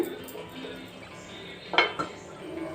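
A plate clinks down onto a pot of upma as a makeshift lid, with a sharp clatter of metal and ceramic followed by a second lighter knock, near and brief against a quiet kitchen background.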